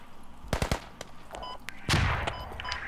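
PPSh submachine gun firing in the tactical shooter Squad: several short, sharp bursts and single cracks at close range, with a louder, denser burst near the end.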